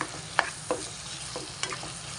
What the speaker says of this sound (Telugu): మనం ముందుగా ఉడకబెట్టుకున్న బఠానీలు ఇందులోకి వేసేసుకుందాం. వేసుకొని కలుపుకుందాం.